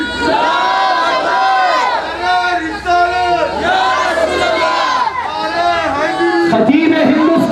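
A crowd at a religious gathering chants slogans in loud unison, repeated rhythmic shouted phrases swelling and falling in waves, close and dense throughout.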